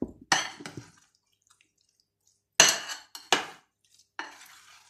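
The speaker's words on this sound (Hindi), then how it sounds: "अब इन सबको मैं मिक्स करूँगी।" Chana chaat being mixed in a bowl with boiled potatoes, tamarind chutney and chaat masala: a few separate clattering spoon-and-dish scrapes and knocks, close and fairly loud, with quiet pauses between them and no talking.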